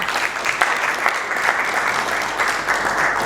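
Audience applause for the panelists at the end of a LawCon 2022 law conference panel on the Advocates Act, a steady, even patter of many hands clapping that holds for several seconds.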